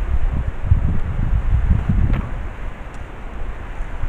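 Wind gusts buffet the microphone outdoors, a dense low rumbling roar that is strongest at first and then eases slightly, with no voices.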